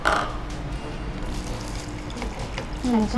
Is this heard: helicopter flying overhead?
no